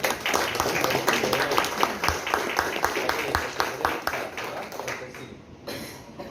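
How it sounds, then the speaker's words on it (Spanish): Closing applause from a small audience at a philosophy café, many hands clapping in dense, steady rhythm for about five seconds before fading, with scattered voices underneath. "vamos a darnos ahora un aplauso de cierre"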